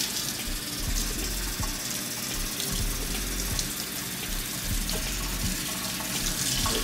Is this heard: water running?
yes